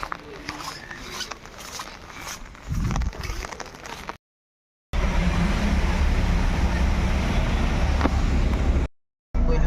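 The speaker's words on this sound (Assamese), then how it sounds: "ভালেই বৰষুণ আছে" Steady rain falls outdoors in hilly country, a dense continuous hiss that cuts out briefly twice, with a few heavier bursts of patter near the start.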